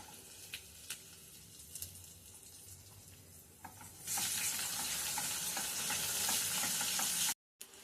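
Dry red chillies hit hot oil for a tempering, with a quiet stretch of light clatter first, then a sudden loud steady sizzle that carries on to the end before cutting off abruptly.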